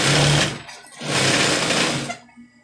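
Single-needle sewing machine stitching a welt pocket on pants, running in two loud sustained bursts with a short slowdown between, then stopping and leaving quiet room tone.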